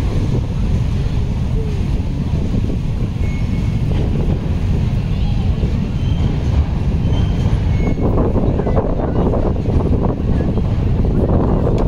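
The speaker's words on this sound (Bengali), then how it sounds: "এখানে ট্রেন লাইন আছে পাশ দিয়ে" A train runs along the tracks beside a bridge over the Thames at Westminster, a continuous close rumble mixed with wind buffeting the microphone. Steady and loud throughout, with a voice talking over it.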